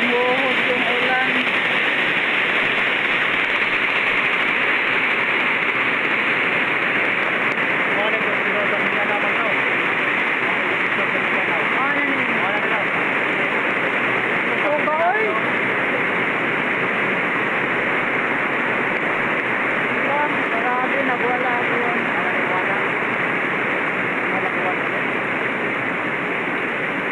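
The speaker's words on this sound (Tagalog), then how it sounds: "Bumuhos yung ulan." Heavy rain pours continuously, a loud, even hiss of water drumming down, with occasional faint voices buried under the roar.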